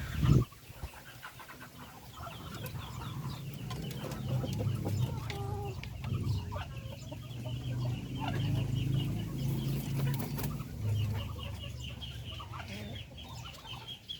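Chickens, including a rooster and hens, cluck steadily while pecking at feed on a Filipino backyard farm, a sharp bird call opening the scene before continuous close clucking and low rustling carry on throughout without speech.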